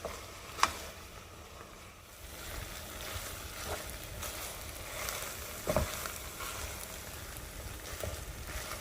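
Tomato paste sautéing in a pan for Filipino spaghetti sauce, a low steady sizzle with faint scraping stirs and a couple of sharp utensil clicks, fairly quiet and without talk.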